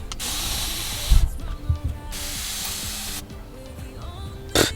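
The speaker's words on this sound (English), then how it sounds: "This is a continuous spray bottle and it actually acts as a mister." Continuous spray bottle acting as a mister releases long, close hissing bursts of fine water spray, two sustained sprays separated by a pause, then a short final puff.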